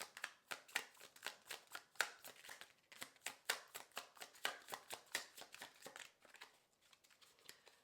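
A deck of tarot cards is shuffled by hand up close, a quick regular run of crisp slapping riffles, roughly three per second, that slows and softens toward the end.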